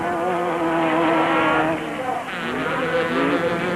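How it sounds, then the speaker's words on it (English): A Haas Chenoweth race car speeds past on a circuit during a 1997 Super Series race, a loud, steady, high engine whine whose pitch shifts as it passes, with a commentator talking over it. "The leader, Bux Carolyn, in his Haas Chenoweth, racing past the stricken Beetle Volvo Turbo and on his way to another victory."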